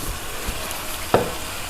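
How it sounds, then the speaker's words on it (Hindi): Yakhni, a beef stock, going into a pan of sizzling beef trotters for Lahori paya: a steady hissing fry, then one sudden sharp burst of sizzle as the liquid hits the hot pan. "यखनी को ऐसा ऐसा डालें।"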